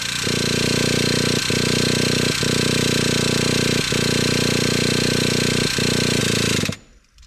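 A starter cranks the engine of a Traxxas T-Maxx nitro RC truck that sat unused for 17 years, giving a loud, close, buzzing drone in several bursts with short breaks before it cuts off.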